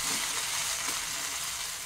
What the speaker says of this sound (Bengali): এবার এটাকে ভালো করে নেড়ে চেড়ে ঘিটা সব জায়গায় মিশিয়ে দিচ্ছি